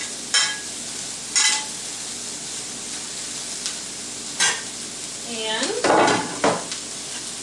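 Brussels sprouts hit browned butter in a pan, producing a soft steady sizzle punctuated by sharp clanks of utensils against the pan and a brief burst of scraping near the end, with a single spoken word.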